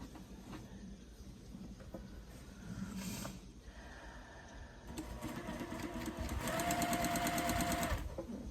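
A domestic sewing machine stitches quilt pieces for a holiday sampler, its motor rising to a loud, steady run of rapid needle clatter after quieter intermittent bursts, with a faint voice in the background.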